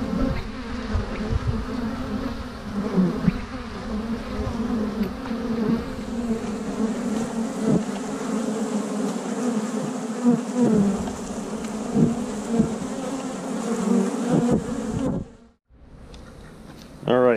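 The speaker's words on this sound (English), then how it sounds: "a big pile of bees where they've pulled dead bees out there" Honey bees swarm and hum around an open hive during an inspection, a dense continuous buzz close by with individual bees droning past, ending in a brief dropout and a soft bump.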